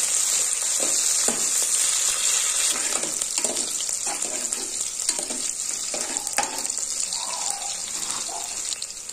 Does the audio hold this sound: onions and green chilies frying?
yes